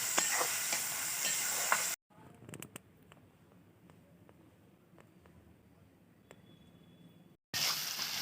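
Fish pasta with fried onions stirred in a pan gives a dense scraping sizzle that cuts to a quieter stretch of soft clinks and light scrapes, then returns loud at the end.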